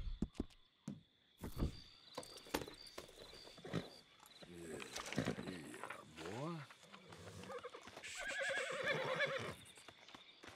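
A wild horse whinnies and snorts in Red Dead Redemption 2 just after being broken, with several wavering neighs and hoof clops close up, while someone talks over it.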